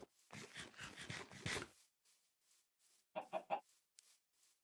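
A Minecraft chicken gives a busy run of clucks at the start, then after a pause a tight burst of three quick clucks, all fairly faint, with no voices over them.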